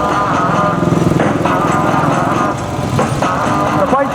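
An old, temperamental motorcycle engine at a steam and country rally, sputtering and chugging unevenly as it tries to start, close and loud.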